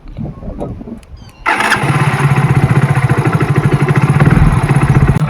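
A BS6 motorcycle engine cranks and catches after a few faint clicks, then settles into a loud, close, steady idle with an even pulsing beat.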